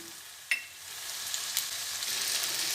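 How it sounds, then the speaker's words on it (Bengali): Dried red chillies and white cumin seeds hit hot oil in a pan, giving a steady close sizzle with a sharp crackle as they go in, and no talk. "তেল গরম হয়ে গেছে এবার দুটো শুকনো লঙ্কা দিয়ে দিলাম আর সাদা জিরে ফোড়ন দিয়ে দিলাম"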